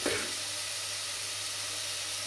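Garlic hits a hot pan for a Paleo chicken stroganoff and sizzles at once, with a bright burst at the start that settles into a steady frying hiss for the rest of the clip.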